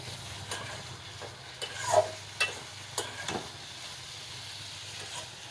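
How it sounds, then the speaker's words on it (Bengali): Curry sizzles and is stirred in hot oil in a pan, a soft steady frying hiss broken by a few sharp clicks and scrapes of a spoon against the pan, fairly quiet and close. "কিছুক্ষণ কষিয়ে নিব হতে থাক"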